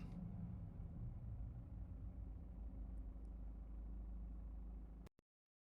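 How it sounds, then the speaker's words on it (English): A car engine meant to pass for a Holden Commodore, actually a BMW 420d, rumbles steadily at a mid-pitched idle or gentle rev for about five seconds, loud and close, then cuts off abruptly into silence. "Sounds a bit too nice for a Commodore, right?"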